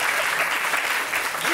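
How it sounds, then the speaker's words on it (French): Studio audience on a French television talk show applauds steadily, a dense continuous wash of clapping that holds at even loudness throughout, with faint speech underneath. "Pourquoi vous applaudissez?"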